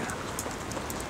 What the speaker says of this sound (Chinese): 今天下雨。